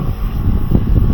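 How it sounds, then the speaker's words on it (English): Wind buffets the microphone in a low, rumbling roar, gusting unevenly and dominating the short stretch without any talking. "It is a little windy right now."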